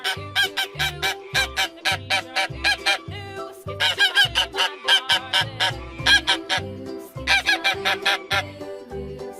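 A goose honks in quick, repeated bursts, loud and near, with brief pauses between volleys, over a rhythmic backing beat from a kids' song.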